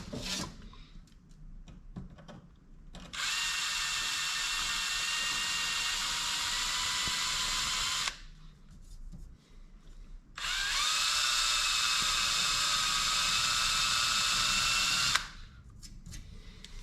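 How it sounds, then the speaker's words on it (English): A power tool chamfering an edge on both sides of a part during a 2003 Chevrolet Corvette 4L60E transmission build, two steady high-pitched whirring passes of several seconds each separated by quieter pauses, close and alone. "Going to chamfer the edge just a little bit on both sides."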